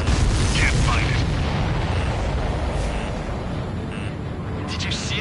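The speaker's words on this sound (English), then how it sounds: "Did you see that explosion?" Explosion in the Ace Combat 7: Skies Unknown flight game as an enemy supply ship goes down in the clouds, a loud, sustained broadband rumble with crackling bursts over continuous engine roar, no talking.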